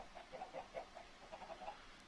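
Chickens clucking in Minecraft (FTB), a series of short, soft game-sound clucks in an irregular rhythm, fairly faint and with no talk over them.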